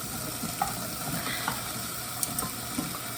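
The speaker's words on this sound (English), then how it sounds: "And now we are going to add the veggies." Potatoes and carrots go into a lentil stew pot, a soft continuous sizzle with a few faint clinks and scrapes at irregular intervals, close and quiet with no talking.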